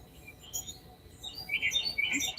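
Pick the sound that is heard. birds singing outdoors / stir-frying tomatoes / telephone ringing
birds singing outdoors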